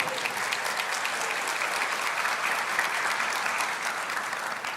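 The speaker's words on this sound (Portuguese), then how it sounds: "Pode aplaudir." A church congregation applauds in a dense, steady wash of clapping that holds at an even loudness from start to finish, with no voice on top.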